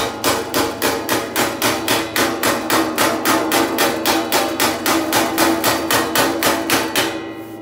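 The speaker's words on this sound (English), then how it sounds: "I know it looks like a claw hammer, but I've actually polished this hammer smooth." A polished, smoothed claw hammer strikes sheet metal for a Willys MB rear seat pan in a fast, steady rhythm, about three sharp ringing blows per second, loud and close, with no talking.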